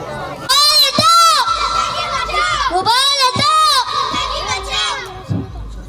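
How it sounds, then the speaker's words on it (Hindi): A group of children shout and yell together, loud and close, carrying posters and banners in a noisy protest; overlapping high voices rise in repeated bursts for several seconds. "बच्चे कुछ पोस्टर और बैनर लेकर चीखो पुकार कर रहे थे"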